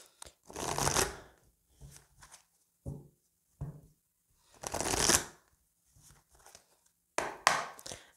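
Oracle cards shuffled and cut by hand in bursts of riffling, papery slaps, with several separate shuffles and short taps spread across the stretch, close and fairly loud against quiet gaps.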